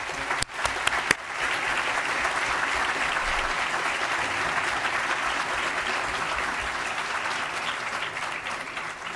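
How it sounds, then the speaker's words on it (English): A room of people at a formal school board meeting applauds students as they stand, steady dense clapping from start to end, a few sharper claps near the beginning, moderately distant. "Will those students stand up so we can give you a round of applause?"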